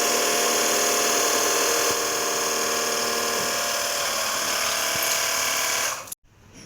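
A battery-powered pressure washer runs with a continuous high-pitched motor whine and hissing spray that holds steady for about six seconds, then cuts off abruptly.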